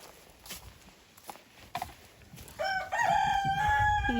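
Chickens on a small homestead crow and cluck outdoors on a cold morning, starting with faint scattered clucks and footsteps, then a loud, close rooster crow rings out over the last second and a half.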